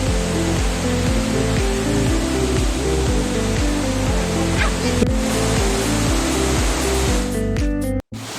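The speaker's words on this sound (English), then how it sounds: "this is the second falls, and this is the main falls." Elephant Falls near Shillong, with water running low, gives off a steady broadband roar throughout. A rhythmic, pulsing music track plays over it, with a brief dropout near the end.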